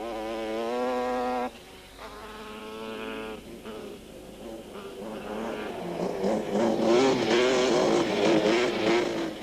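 Quad bikes race on sand, a Yamaha Banshee among them. Buzzing two-stroke engines whine and rise in pitch, passing close with loud, layered revving.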